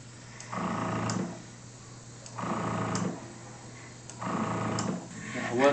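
An airbrush sprays clear gloss coat onto a Hasegawa Zero WWII Japanese fighter model in three short, hissing bursts of about a second each, separated by quiet pauses, close and soft.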